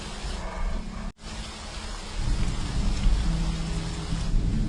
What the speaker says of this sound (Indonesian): tiba-tiba langit turun hujan